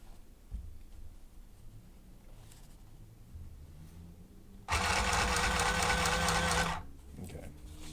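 Sewing machine stitching fabric for an Indian chess board project: a loud, steady whirring run of about two seconds after quiet workshop rustling, then stopping abruptly.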